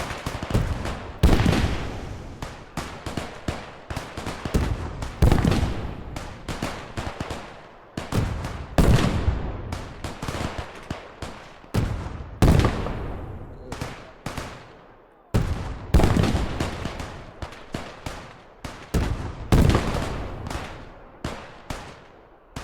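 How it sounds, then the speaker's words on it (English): Field guns and rifles fire in a World War II battle in the Call to Arms: Gates of Hell video game, sharp loud bangs and crackling volleys bursting irregularly at close range, each blast decaying with a rumbling echo. "The field gun's wasting its ammo."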